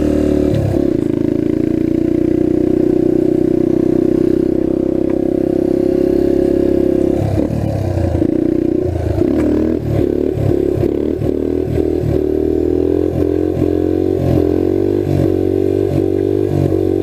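A restored trail bike engine that had been locked up runs loudly nearby, first a steady drone, then a choppy series of rapid revs and pulses with clattering as the bike is ridden.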